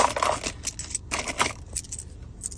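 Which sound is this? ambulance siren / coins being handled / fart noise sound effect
coins being handled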